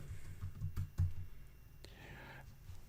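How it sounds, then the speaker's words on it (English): A few quick key clicks from a computer keyboard as a name is typed into a spreadsheet cell, faint and brief, followed by a soft brushing sound. "I am just going to type my name really quickly."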